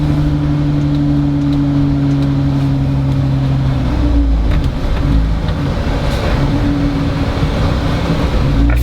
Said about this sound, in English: You could definitely hear it in the exhaust.